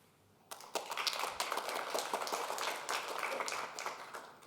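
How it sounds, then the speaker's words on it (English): Applause from a scientific symposium audience, starting abruptly after a quiet moment and continuing as a fairly soft, steady patter of many hands. "Give him a warm applause."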